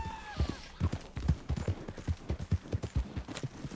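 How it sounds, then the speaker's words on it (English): Horse hooves clip-clop in a rapid, uneven run of heavy thuds in Red Dead Redemption II, loud and near, with a brief voice near the start. "Get on the horse!"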